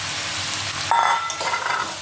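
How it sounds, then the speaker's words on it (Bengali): Lentils hitting hot oil and frying in a pan, a loud close sizzle that swells as something is added and stirred. "এখন এই ডালটা দিয়ে দিই, এর সঙ্গে ভাজা হয়ে যাবে।"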